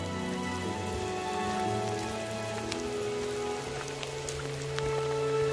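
Steady rain in the mountains near Ždiar, Slovakia patters continuously on a surface, a dense even hiss of drops with faint tonal hum underneath and no voices.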